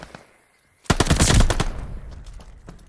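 Rapid automatic gunfire at a hardpoint in Call of Duty: Vanguard, a sudden loud burst of rattling shots that starts after a quiet moment and then fades.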